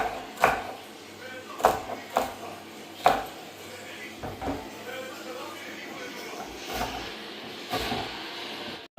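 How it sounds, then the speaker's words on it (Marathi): Onions being chopped on a board for a tempering: a series of sharp knife thuds, several at a time with pauses between, near and fairly loud, amid faint kitchen clatter and someone speaking. "हे बघा कांदो कापून घेतात फोडणीसाठी"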